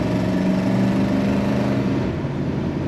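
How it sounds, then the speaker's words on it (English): A 1957 Ford Fairlane Club Victoria engine revs and accelerates with a low, steady exhaust rumble, close by and continuous throughout. "Good acceleration and a nice rumble to that exhaust"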